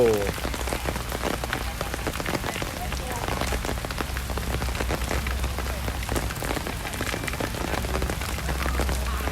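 Steady rain falls on surfaces around an outdoor Thai sepak takraw match, a dense, even patter that continues throughout with faint background sounds and no clear voices.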